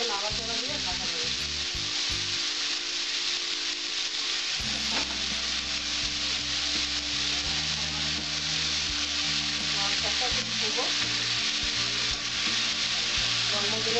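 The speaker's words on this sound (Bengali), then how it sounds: "স্বাদ মতো নুন দেবো, কাঁচা লঙ্কা ছিঁড়ে দেবো, দিয়ে নাড়াচাড়া দিয়ে কাঁচা দেবো।" Red spinach (lal saag) being stirred in a pan with salt and torn green chili, a steady loud sizzle with scraping stir strokes running throughout, with background music layered underneath.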